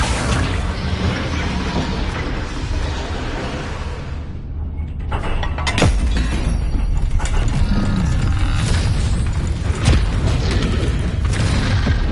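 A Depulso force spell from the Hogwarts Legacy video game blasts with a loud booming burst, followed by mechanical clattering and rumbling debris within dense game sound.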